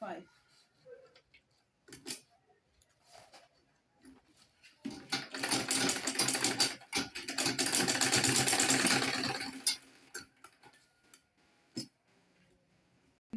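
A sewing machine stitches a ladies' shoulder bag in one steady whirring run of about five seconds, close by, framed by quiet handling sounds and a voice speaking before and after.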